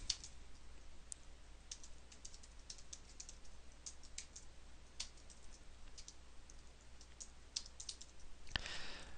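Quick, soft keystrokes patter on a computer keyboard in an uneven run, recorded close up but quiet, with no voices.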